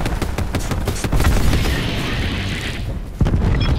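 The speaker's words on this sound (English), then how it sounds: "Throwing cluster grenade." A cluster grenade goes off in Call of Duty: Black Ops 4, unleashing a loud, rapid chain of booming blasts close by that rumble continuously before a final sharp burst.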